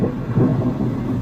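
Thunder from a nearby lightning strike during a thunderstorm, a loud, close, low rumbling roll with rain in the background and no voices.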